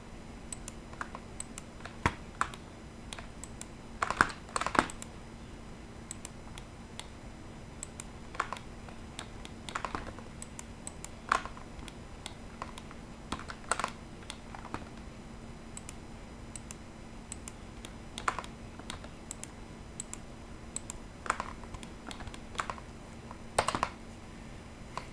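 Computer keyboard typing with scattered, irregular clicks and short bursts of keystrokes over a steady low hum, close and fairly quiet, no talking.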